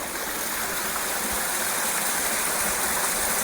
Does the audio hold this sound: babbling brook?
yes